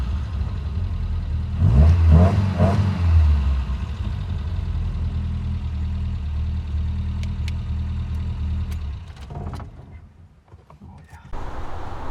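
A BMW M10 engine, back running after sitting for a year, idles with a steady low rumble and gives a brief rev near the start. The sound is close, continuous and even, then dips briefly toward the end.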